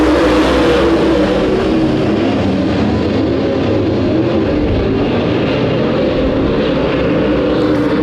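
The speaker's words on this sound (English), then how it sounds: "Back on the gas, and we are green." Race cars in a late-model stock car race roar back up to speed on a green-flag restart, a loud, dense, continuous engine drone that stays close and steady throughout with no voices.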